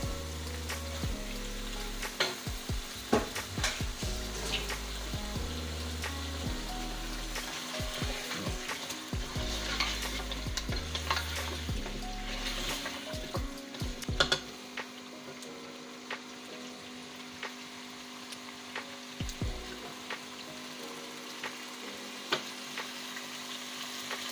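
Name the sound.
chicken frying in oil for qorma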